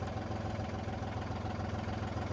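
A farm tractor engine runs steadily at low revs in a muddy vineyard after unseasonal rain, a close, continuous throbbing idle with no talk over it.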